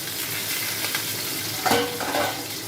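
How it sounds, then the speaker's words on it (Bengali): Folui fish pieces fry in hot oil with a loud, dense, continuous sizzle, and a sharper splutter bursts out partway through. "বন্ধুরা গরম তেলে এরকম করে মাছগুলোকে ছেড়ে ছেড়ে ভেজে নেবো, উল্টে পাল্টে মাছগুলোকে ভেজে নেবো।"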